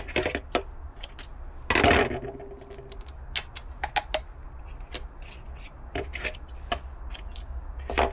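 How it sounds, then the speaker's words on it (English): Stucco masking tape being cut into pieces, with crisp clicks and snips and a short rough burst of tearing or rustling, close and irregular with no voices. "I'll lay out a bunch of pieces on here and I'll cut them randomly."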